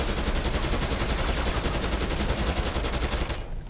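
A gun in Call of Duty Black Ops 6 multiplayer fires in one long rapid automatic burst, loud and close with rhythmic rattling shots, that stops just before the end.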